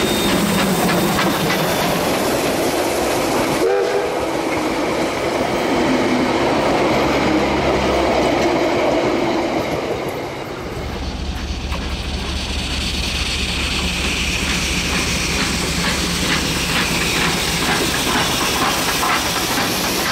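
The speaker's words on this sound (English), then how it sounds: "Locals came out to admire the steam locomotive before" A steam train rumbles steadily past on New Zealand's South Island after exiting a tunnel, with clattering wheels and hissing steam, loud and close; a deep low drone takes over in the second half.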